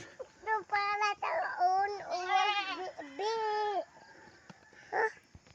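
Goats bleat in a series of loud, wavering cries close by, one after another, with brief pauses and a quieter bleat near the end.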